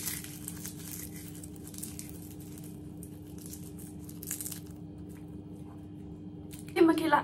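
A dried nori seaweed sheet is crumbled by hand over a bowl of Korean bibimbap, giving a short, close, crisp crackle near the end, with a steady background hum and a voice beneath.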